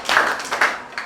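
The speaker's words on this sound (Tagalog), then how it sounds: "bigyan ng palakpak" Classroom students giving a short burst of applause, a few quick overlapping claps lasting about a second, close and clear with no voices.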